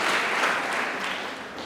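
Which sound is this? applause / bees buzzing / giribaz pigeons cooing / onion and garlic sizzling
applause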